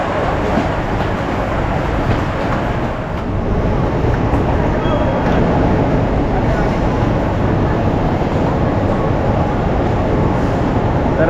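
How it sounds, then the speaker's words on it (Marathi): A crowded Mumbai commuter train with a first-class coach gives a loud, steady rumble of wheels and carriage noise that runs unbroken for the whole stretch, with faint voices beneath it. "तर आता ट्रेन आले, ट्रेनमध्ये बसणार आणि जाणार"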